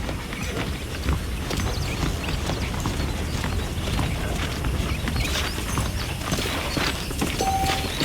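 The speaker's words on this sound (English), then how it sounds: "The horses are saddled up over here." Horse hooves clip-clop in a steady trotting rhythm in the video game Red Dead Redemption, close and continuous, with a faint background hum and no talking.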